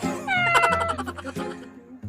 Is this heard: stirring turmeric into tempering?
no